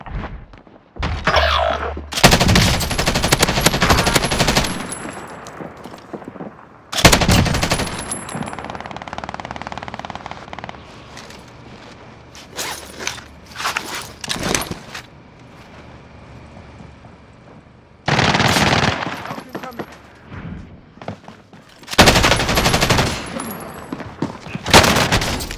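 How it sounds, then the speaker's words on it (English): Loud bursts of automatic machine-gun fire in a video game come in several separate volleys, with quieter stretches of ambient game sound between them. "I'm under fire."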